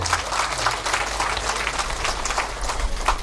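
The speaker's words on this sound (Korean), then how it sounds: "여러분 큰 박수 한번 보내주시기 바랍니다" A crowd at the opening ceremony of the 23rd Namdang Port prawn festival in Hongseong applauds continuously, a dense, even wash of clapping with a low hum beneath, heard at a moderate distance.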